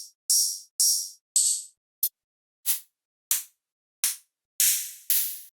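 A series of ten separate hi-hat one-shot drum samples for dubstep and riddim, crisp metallic ticks and short open sizzles, each played alone with silence between them.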